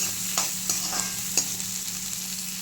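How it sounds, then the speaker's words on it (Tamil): Onions sizzle steadily while frying in a pan for a pepper mutton gravy, with a spoon stirring and scraping in light, irregular clinks over the constant hiss. "ஆனியன் நல்லா ஃப்ரை ஆயிடுச்சு."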